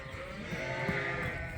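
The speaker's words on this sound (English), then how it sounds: "These are the February lambs today." February lambs and sheep bleat on a freezing-cold farm, a close, steady chorus of overlapping calls filling the short moment with no talking.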